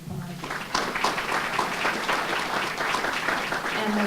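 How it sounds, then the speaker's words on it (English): A round of applause from attendees at a faculty and staff meeting, moderate and fairly distant, starting after a brief pause and continuing steadily. "Let's give her a round of applause."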